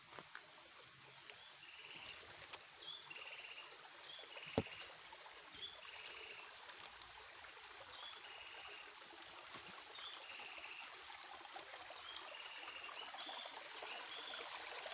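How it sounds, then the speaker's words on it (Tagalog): A creek flows steadily at a moderate distance, with continuous soft rushing and trickling water and no voices. "Nandito ulit tayo sa sapa mga idol"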